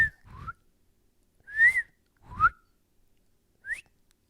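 A person whistles short rising tones by mouth, imitating a whistle heard outdoors: a few separate upward-sliding chirps with pauses between, close and clear, with soft breathy sounds alongside.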